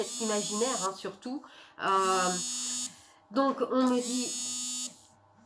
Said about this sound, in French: Désolé, c'est le téléphone qui vibre.